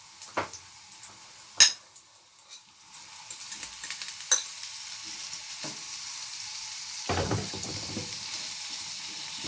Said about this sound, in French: j'ajoute la viande hachée et je laisse rissoler